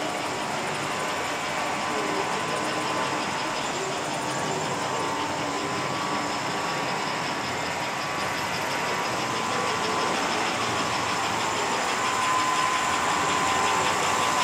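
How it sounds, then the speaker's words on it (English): An old Gilbert toy hand car runs around a model train track, giving a continuous motor whir and steady mechanical hum that grows slightly louder toward the end. "the old Gilbert hand car is going around the inside track"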